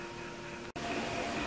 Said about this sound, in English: Fans are going.